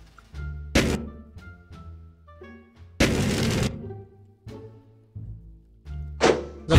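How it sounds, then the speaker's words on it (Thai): Heavy booming blasts from bombs in the video game XSHOT land several times, each a loud burst with a rumbling tail, separated by duller thuds and pops. "ระเบิดนี้โคตรแรงนะ"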